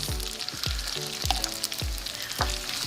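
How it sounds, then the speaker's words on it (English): Garlic, lemon zest, parsley, pepper and salt sizzle steadily in hot oil in a pan for aglio e olio, with a spoon scraping and clacking against the pan roughly every half second, loud and close. "We wanna just stir that lemon zest in with the oil and the garlic and the parsley and the pepper and the salt."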